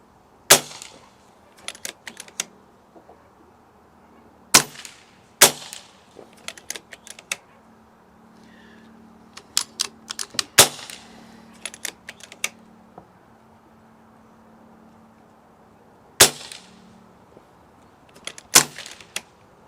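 Two BRK Ghost airguns fire at targets 50 yards away, giving sharp isolated cracks spaced several seconds apart. Between the shots come softer clicks and handling noises over a quiet outdoor background.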